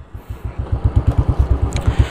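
A Royal Enfield Bullet motorcycle fires up and settles into its loud, close, steady thumping idle, the single-cylinder beats pulsing in an even rhythm.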